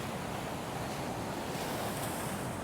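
Large ocean waves break onto a surf beach where people are fishing for sand whiting, a loud continuous wash of roaring surf mixed with wind buffeting the microphone, with no voices.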